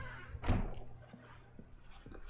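A door thunks open in The Stanley Parable, one brief, fairly soft knock near the start, followed by a quiet room tone.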